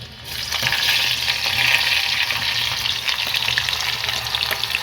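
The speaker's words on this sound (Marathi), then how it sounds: "आता हे छान गरम झालं की यात कांदा घालूया आता कांदा घालून घेऊया" Onion dropped into hot oil with bay leaf, black pepper, cardamom, cinnamon and cloves, a loud dense sizzle that bursts in suddenly and keeps crackling steadily, alongside light stirring.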